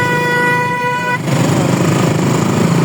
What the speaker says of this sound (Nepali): ओइ गाडीको हरन बज्यो।